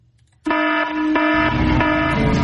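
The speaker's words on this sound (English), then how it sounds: "Protect your livestock with AP and Agri Alert alarms." An Agri Alert livestock barn alarm sounds in a radio ad: a loud, steady, buzzing electronic tone starts abruptly after a short quiet moment and holds.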